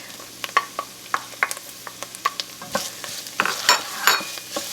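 Onions and chopped garlic sautéing in a soup pot, a soft sizzle broken by frequent sharp clicks and scrapes of a spoon stirring against the pot, close and without speech.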